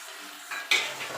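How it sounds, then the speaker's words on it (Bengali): Chopped tomato drops into a frying pan of fish head and cabbage, giving a short clatter and a sudden bright sizzle as it hits hot oil, followed by a softer scrape of stirring, close by. "এবার আমি টমেটোটা দিয়ে দেবো।"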